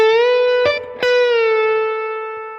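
A sustained distorted electric guitar note from a song lick, with a short pluck and an A bent up to B in the middle, then released, ringing out and slowly fading.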